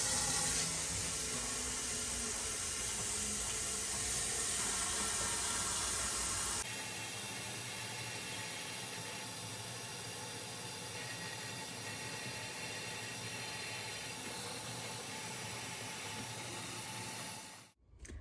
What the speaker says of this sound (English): So I'm gonna fill that up.